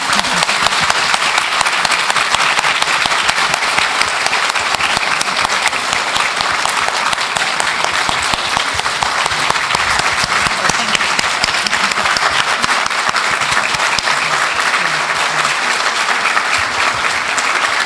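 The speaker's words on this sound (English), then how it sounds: "join me in giving Vanitha a round of applause" A large audience at a women's conference held by a US–India chamber of commerce in Dallas gives a loud, dense, unbroken round of applause that holds strong for nearly eighteen seconds.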